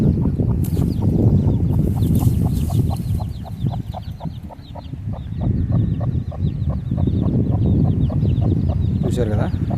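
Chicks of a double-body large chicken breed peep in a quick, regular series of high chirps, close by, with a constant low murmur of the flock underneath.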